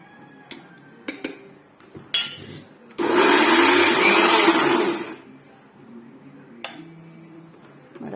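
Mixer grinder pulverising rice into flour, a loud whirring burst of about two seconds, preceded and followed by sharp knocks and clatter of the jar being handled.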